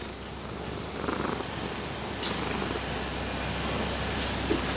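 A contented cat purrs steadily up close, a continuous low rumbling hum that holds throughout without pause.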